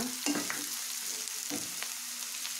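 Ginger and garlic pieces frying in a pan, a steady close sizzle with a couple of brief stirring scrapes and clinks, no voices.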